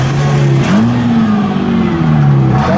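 A used car's engine idles and revs at a dealer auto auction, a steady, close, droning hum with a slight rise and fall in pitch and no talk over it.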